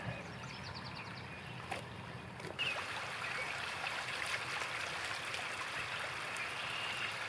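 Water runs steadily out of a siphon pipe set in a beaver dam, a soft continuous trickle and gurgle close by, growing a little louder partway through, with a few faint clicks early on.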